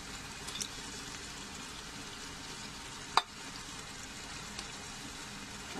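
Beaten yogurt goes into frying masala in a pressure cooker, giving a quiet, even sizzle with one sharp scrape or clatter partway through and no talking.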